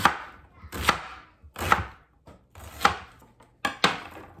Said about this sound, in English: And that's an easy way to cut my onion.